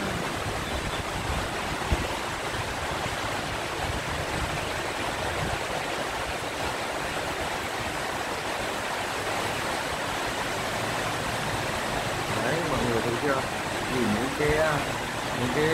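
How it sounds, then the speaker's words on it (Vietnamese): A summer rain shower pours down over Hanoi city, a dense continuous hiss of falling water that stays loud and steady throughout, with a faint voice in the background. "Cơn mưa này nó bao trùm cả toàn thành phố luôn."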